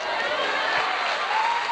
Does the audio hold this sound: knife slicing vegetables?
no